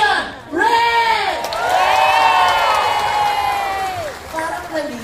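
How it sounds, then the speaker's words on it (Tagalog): A live studio audience at a variety show cheers and shouts in a loud, sustained burst of overlapping excited voices, with a few individual whoops rising above the crowd. "Magpalakpakan for Ian Ray!"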